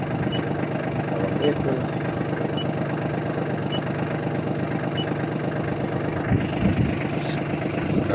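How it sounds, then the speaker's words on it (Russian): A Japanese Kubota KL25 25 hp mini tractor idles with a steady, even diesel chug close by, running throughout while someone talks over it. "Заводим трактор. Завелся."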